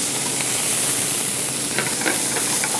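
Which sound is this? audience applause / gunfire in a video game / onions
onions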